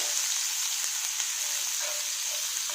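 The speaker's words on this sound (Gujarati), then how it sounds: "તો જીરું થઈ ગયું છે, તેની અંદર આપણે આદુ મરચાંની પેસ્ટ નાખી દઈશું" Ginger-chili paste sizzling in hot oil with cumin, a steady, dense hiss of frying that runs unbroken and close throughout, with no voices.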